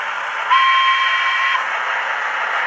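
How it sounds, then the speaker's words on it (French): A steady two-tone horn from a PIKO Expert model 141 TA steam locomotive blares for about a second over a constant electronic hum, then cuts off, leaving the hum running alone. "comme ça vous avez les 2 klaxons."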